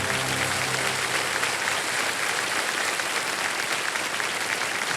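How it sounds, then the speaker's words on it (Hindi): A studio audience at a television quiz show claps steadily and loudly, sustained applause filling the whole moment without any talk over it. "ताली बजते रहे।"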